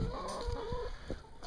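A backyard hen clucks after laying an egg: a close, continuous run of throaty clucks rising into a drawn-out tonal call, with no voices.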